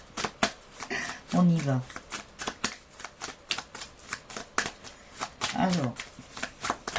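Tarot cards being shuffled in a rapid series of crisp riffling and slapping bursts, close and steady throughout, with a voice speaking briefly twice over them.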